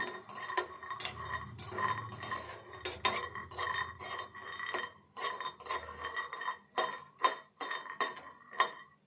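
Peanuts and cashews being dry-roasted in a pan while bitter gourd rests, with frequent metallic clinks and scrapes of a utensil stirring against the pan in an irregular rhythm, close and moderately loud, with no talking.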